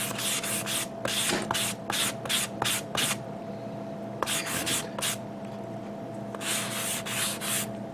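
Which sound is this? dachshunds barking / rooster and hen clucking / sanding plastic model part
sanding plastic model part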